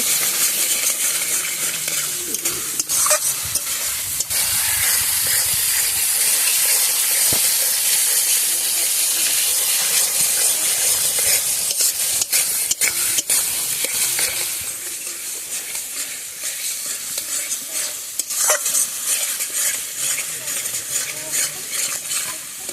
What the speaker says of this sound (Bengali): লবণটা দিয়ে এবার আরও ভালো করে কষিয়ে নেব।